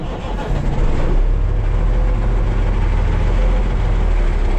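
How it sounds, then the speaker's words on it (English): A white Mack semi truck's engine turns over and catches, then settles into a loud, steady low diesel rumble that holds close and constant for several seconds. "I parked this white truck pretty obnoxious, so I'm just gonna start it up and move it"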